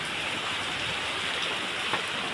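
Steady storm rain pours continuously, a dense, even hiss with no pauses or other sounds.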